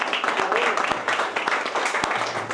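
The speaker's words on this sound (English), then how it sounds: "So can I ask you to give Jake a big round of applause?" Applause from an audience for a guest at St Comgall's, a dense patter of clapping hands that runs steadily through the short moment, with a few sharper claps standing out and some murmuring underneath.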